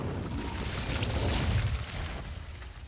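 A fire spell cast in Hogwarts Legacy, a soft whooshing burst that swells and fades over a few seconds, fairly quiet.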